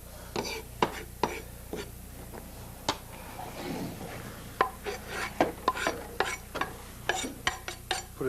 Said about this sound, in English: chop these chilies up